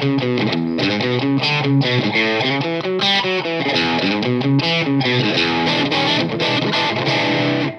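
An electric guitar, a Jackson Pro Series Dinky DK2 on its single-coil bridge pickup, plays a loud, steady riff of bright, twangy chords and notes with a nasal, squawky bite, alone throughout.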